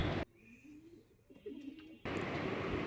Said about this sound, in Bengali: তো এই যে আমার কবুতরগুলো,